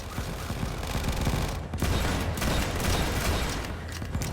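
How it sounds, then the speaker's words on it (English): Mortar towers in Tower Defense Simulator fire on skeletons in a continuous dense barrage of explosive booms and rumbling blasts, loud and close and almost unbroken, with no voices. "So the mortars are attacking the skeletons"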